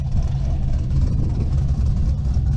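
A cammed Chevrolet Camaro SS V8 idles after a cold start on a cool day, a deep, loud, lumpy rumble that holds steady and close throughout.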